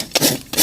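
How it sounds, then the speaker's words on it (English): A farrier works a horse hoof with a Balata Top Sharp rasp, producing two or three short, gritty rasping strokes, close and fairly loud. "Got my handy Balata Top Sharp Rasp"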